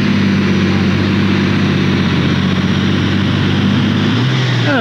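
Hercule, a pulling tractor powered by a Wärtsilä diesel, working at a 1997 European tractor pulling event in Bernay, France. A loud, constant heavy low drone dominates, and the pitch shifts near the end as the run winds down.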